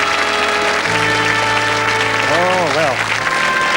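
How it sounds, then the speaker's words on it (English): Studio audience applause on a 1985 Scottish-themed 3-2-1 game show, a steady dense wash of clapping throughout, with a man's brief spoken remark over it. "Give them a round of applause, folks."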